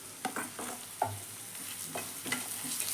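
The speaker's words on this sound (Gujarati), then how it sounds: "ડુંગળીને આપણે બ્રાઉન થાય ત્યાં સુધી સાંતળી લઈશું" Onion and ginger paste sauté in a pan, a soft, quiet sizzle under several distinct scraping strokes of a spoon stirring, close by with no voices.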